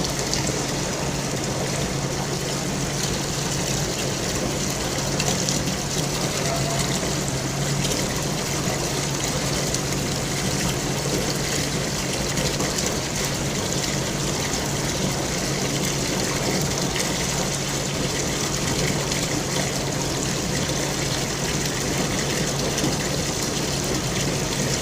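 A water jet streams from an orifice in a jet velocity apparatus, giving a continuous, loud gushing hiss that holds steady from start to finish with no talk.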